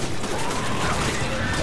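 Pistol gunfire in Resident Evil 5, a dense stream of game combat noise with rapid shots blending into steady, loud action sounds, while a voice talks at times.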